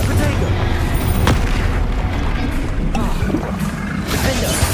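A Confringo spell blast in the Hogwarts Legacy video game lands as a loud, dense boom with a crashing roar that stays heavy through the whole stretch, over continuous game noise.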